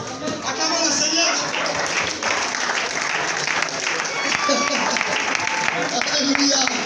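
A church congregation applauds and cheers in praise, sustained clapping from a large crowd filling the room with dense, steady noise and voices mixed in.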